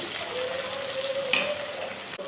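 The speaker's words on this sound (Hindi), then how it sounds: "हम प्याज डालने के बाद थोड़ा सा स्टर कर लेंगे, थोड़ा सा प्याज को हल्का बनने देंगे।" Onions frying in a pan with oil as a home curry base, stirred around: a steady close sizzle throughout with one sharper scrape of the spoon partway through.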